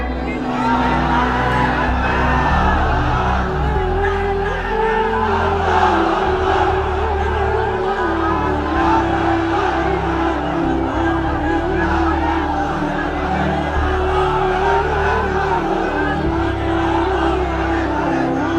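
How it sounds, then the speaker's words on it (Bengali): A large crowd at a Bangla religious sermon gathering loudly chanting the takbir in unison, a dense, sustained roar of many voices with rhythmic rising calls. "তাকবীর দেন তো একজন আওয়াজ করে"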